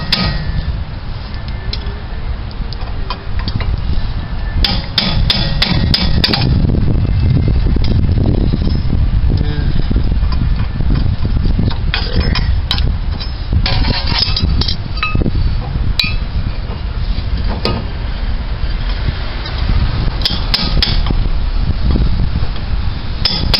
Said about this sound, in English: got a chisel here. Just going to kind of set the end of it on that groove